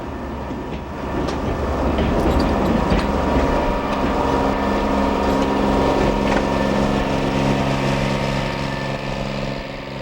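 An Amtrak maintenance-of-way rail crane rolls through station lead tracks, a steady loud rumble of wheels and engine with rattling and squeal, building slightly and holding throughout without voices.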